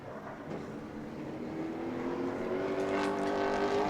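A Pro Late Model race car runs a qualifying lap at New Smyrna, its engine note rising steadily as it draws nearer and grows louder, a sustained high-revving drone with no voices over it.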